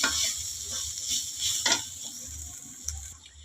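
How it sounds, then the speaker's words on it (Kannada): Onions and peas fry in a pan with a steady, close sizzle, while a spoon stirs them in repeated scraping strokes that rise and fall over the hiss. "ಈರುಳ್ಳಿ ಜೊತೆಗೆ ಬಟಾಣಿನೂ ಚೆನ್ನಾಗಿ ಫ್ರೈ ಆಗಿದೆ."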